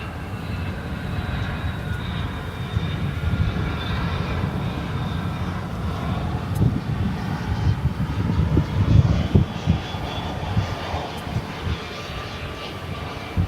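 A jet airliner arriving at DFW Airport at night, heard as a steady broad engine roar that swells slightly midway, distant and continuous with no talk.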